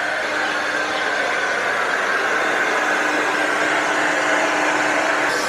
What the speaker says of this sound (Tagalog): dinadry ng papa niya yung kanyang hair